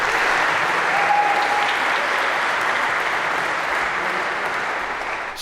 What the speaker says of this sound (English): maybe a round of applause for our 3 volunteers